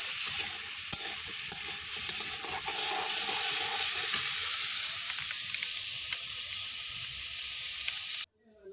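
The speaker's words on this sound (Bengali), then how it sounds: "আর এখানে গাজর ভেজে দেবেন" Carrots fry in a pan with a constant hiss, marked by light clicks and scrapes from stirring, then cut off abruptly near the end.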